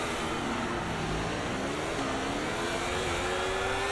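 F1 race cars in the video game F1 24 start a wet United States GP with a continuous, rising engine whine as they accelerate away, loud and steady throughout.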